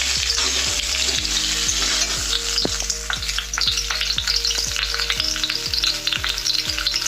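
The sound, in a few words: potatoes frying in mustard oil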